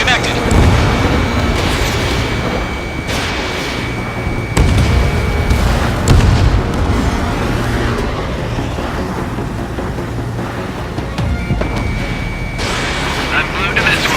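Missile strikes a target in the air-combat game Ace Combat 7, with repeated booming explosions over dense jet and battle noise, and radio voices chattering throughout.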